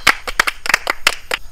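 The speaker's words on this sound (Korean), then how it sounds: "박수." A small group of military trainees claps briefly, about ten sharp, close hand claps in an uneven quick rhythm over a second and a half, with no talking.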